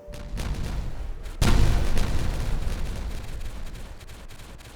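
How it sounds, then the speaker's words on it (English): Explosions in the beaver colony game Timberborn go off as a sudden loud boom that rolls into a long rumbling tail of debris and blast noise, following a quieter lead-in. "there will be many explosions. So, let the kabooming commence."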